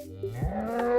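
A cow in Minecraft lets out a single low, drawn-out moo, close and clear, with no talk over it.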